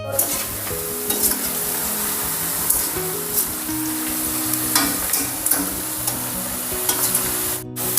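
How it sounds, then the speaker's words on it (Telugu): Onions fry in hot oil for a Hyderabadi paneer biryani with a loud, close, continuous sizzle, while a spoon stirs and clatters against the pan now and then. "ఆయిల్ వేసి బ్రౌన్ ఆనియన్ ఫ్రై చేసుకుందాం."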